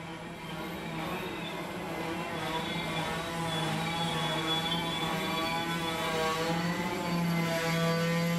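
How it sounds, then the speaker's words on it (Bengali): A train screeches as it brakes hard to a stop, a dense metallic wail with sustained high tones that stays loud and unbroken for about eight seconds, presented as a sound effect for a spoken drama. "একটা ভীষণ শব্দ করে ট্রেনটা খুব জোরে ব্রেক কষে দাঁড়িয়ে পড়ল।"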